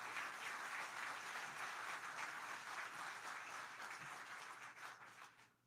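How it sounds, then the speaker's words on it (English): Steady applause from an audience at a SpaceX announcement event in Louisiana, dense and even, fading slightly toward the end with no talk over it. "How about a round of applause for them?"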